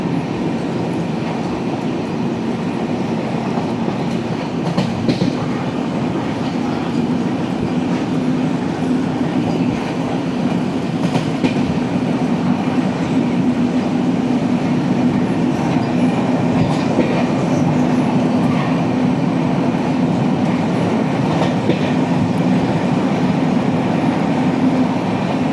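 The Netravati Express passenger train runs on rails in Kerala, heard from on board as a loud, steady rumble with rhythmic wheel clatter and occasional metallic clicks that continue unbroken throughout.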